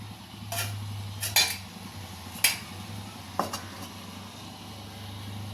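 A lid set down over a pan of simmering curry gives a few light metallic clinks and clanks, spaced out over a steady low kitchen hum, close by with no talking.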